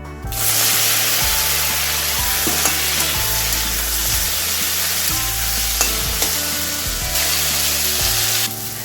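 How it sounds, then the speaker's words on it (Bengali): Boiled taro and potatoes fry in soybean oil, a constant bright sizzle with regular scraping stirs of a spatula against the pan, close and alone without speech. "এই তেলেই আমি সেদ্ধ করে রাখা কচু আর আলুগুলোকে ভেজে নেব"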